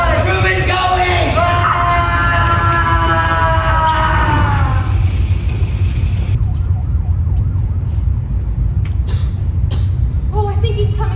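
Wailing ambulance siren from a film scene, a loud rising and falling tone over a fire-rescue commotion that fades after a few seconds, with shouting voices and engine noise around it.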